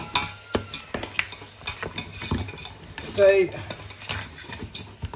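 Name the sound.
stirring lamb and spinach curry cooking in pot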